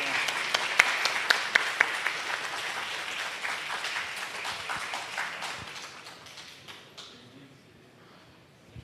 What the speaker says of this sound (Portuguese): também peço uma salva de palmas ao presidente Afonso Furtado pela representação